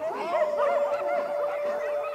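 Sheepdogs guarding a flock of sheep give a steady run of overlapping barks and whining yelps, fairly close and continuous throughout.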